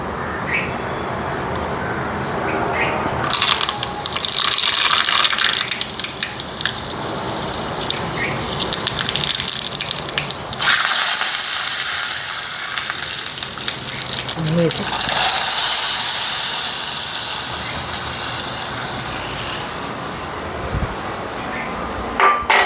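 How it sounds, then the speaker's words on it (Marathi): Loud, rough whirring of a mixer grinder grinding chutney in long bursts, with a brief pause partway through and a louder, harsher second run. "चला चटणी वाटून घेऊया"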